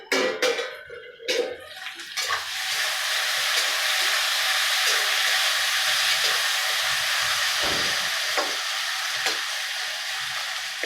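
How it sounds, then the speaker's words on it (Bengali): Raisins and nuts frying in hot oil for chirer polao, a steady loud sizzle that holds for several seconds after some brief clatter at the start. "কিশমিশগুলো তেলের মধ্যে বেশ ভাজা ভাজা হয়ে ফুলে উঠবে"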